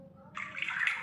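Water poured over a child during a bath, a short splashing gush starting partway through, close and moderately loud after a faint background murmur.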